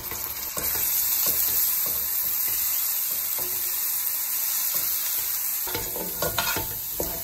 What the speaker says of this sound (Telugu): ఇప్పుడు జింజర్ గార్లిక్ పేస్ట్ వేసుకోవాలి.